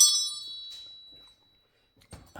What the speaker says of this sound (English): the old school bell.